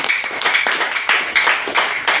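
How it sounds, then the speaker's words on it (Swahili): A church congregation claps together in a steady burst of applause, rapid overlapping hand claps holding an even level for a couple of seconds. "Pigia Yesu makofi"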